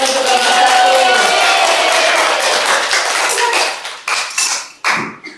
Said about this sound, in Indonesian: Berikan tepuk tangan untuk kelompok 1